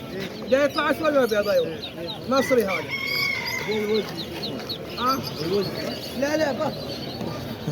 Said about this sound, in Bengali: এটা হচ্ছে রাতা মুরগা, ঠিক আছে।